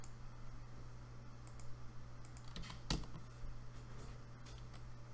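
Quiet typing on a computer keyboard at a desk, an irregular run of soft clicks with one sharper key strike midway, faint under a steady electrical hum.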